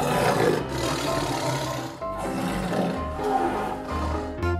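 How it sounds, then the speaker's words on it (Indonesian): A toy tiger gives a loud animal roar in several long surging bursts with brief gaps between them, close and with no talking. "ternyata ini harimau"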